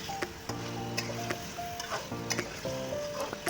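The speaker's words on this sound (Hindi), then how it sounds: "ये देखें, गोश्त फ्राई हो रहा है" Beef pieces frying in oil with ginger garlic paste for a restaurant-style beef karahi: a soft, steady sizzle comes with intermittent stirring clicks and scrapes, over faint sustained tones in the background.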